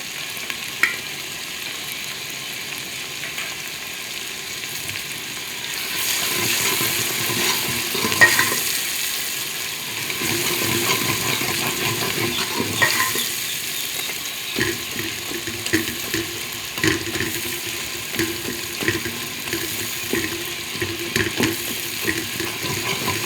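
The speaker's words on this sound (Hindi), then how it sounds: "अब हम इसमें कुटा हुआ लहसुन डालेंगे।" Steady sizzling of tomato and green chili frying with scraping stirring strokes, rising louder partway through as crushed garlic goes into the pan; no talking.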